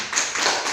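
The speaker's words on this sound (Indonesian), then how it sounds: "Oke, silakan berikan aplaus untuk kelompok 2." Brief burst of classroom applause for a student group, a dense patter of hand claps swelling twice within a fraction of a second, fairly close and loud with no talking.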